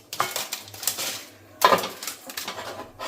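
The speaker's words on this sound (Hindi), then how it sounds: "और इसकी आवाज़ सुनिए, एकदम क्रिस्पी वाली जो मूंग दाल की नमकीन होती है" Crispy air-fried moong dal namkeen being stirred with a spoon, bursts of dry rattling crunch and light clinks against the dish, close and crisp with short pauses between.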